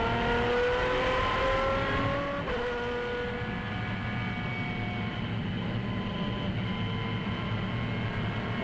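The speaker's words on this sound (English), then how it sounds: "On board in the Maserati at the moment, cruising." Maserati GT1 race car engine heard on board while cruising during 2010 FIA GT1 qualifying at Algarve, a steady, loud droning note whose pitch dips sharply partway through, then carries on evenly to the end.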